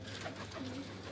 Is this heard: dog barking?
no